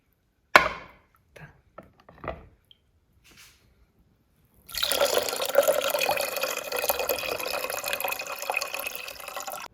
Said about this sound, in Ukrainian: А помідори я прям в баночці промию у холодній воді.